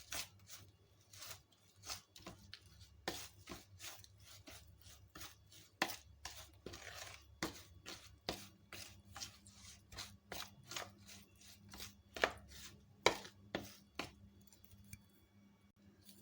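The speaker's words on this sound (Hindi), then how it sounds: "अब इन सब मसालों को अच्छे तरीके से मिक्स कर दें।" Spices being mixed with chili sauce in a bowl for a chicken roast, giving repeated light scraping and tapping strokes at an uneven pace, close and fairly quiet, with no talking.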